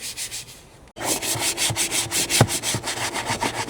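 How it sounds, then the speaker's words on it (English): Steady rhythmic scrubbing of a Volkswagen SportWagen's interior, brisk back-and-forth rubbing strokes repeating about four times a second, close and fairly loud after a brief pause near the start. "we're just going to give the interior a good vacuuming and scrubbing"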